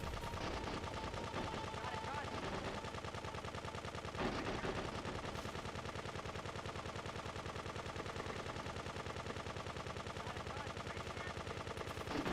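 Sustained rapid machine-gun fire in GTA V Online rattles in a steady, dense stream for many seconds, loud and continuous with a few heavier shots standing out.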